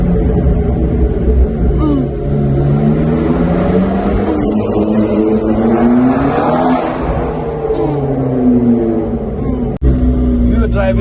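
A McLaren 650S sports car engine revs loudly and close, its pitch climbing and dropping in repeated sweeps, while people talk over it.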